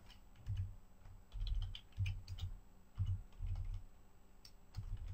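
Quiet typing on a computer keyboard, with bursts of soft key clicks in uneven clusters and short pauses between them, close and alone.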